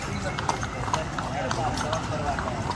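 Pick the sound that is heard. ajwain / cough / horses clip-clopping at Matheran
horses clip-clopping at Matheran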